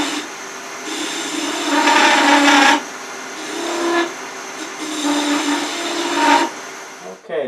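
A wood lathe turns a wooden kitchen spatula while a tool cuts into the end grain near a shoulder and bead. The spinning workpiece gives a steady hum, broken by several loud, rasping bursts of cutting.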